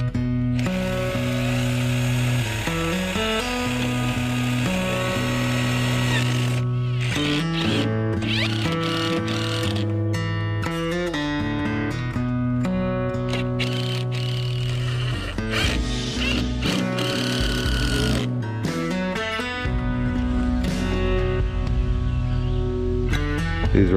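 A power tool drives self-tapping screws into aluminum on an antenna mount, its motor whining in repeated bursts whose pitch rises and falls as each screw bites. The sound is loud and close and runs without a break.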